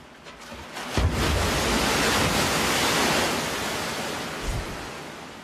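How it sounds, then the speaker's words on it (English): Man-made tsunami waves from a large lab wave-generating machine in Kanagawa that pushes water down a 180-meter chute roar as one loud, broad, continuous rush, building after a thud and holding steady. "engineers are using the largest man-made tsunami in the world to help design stronger coastal"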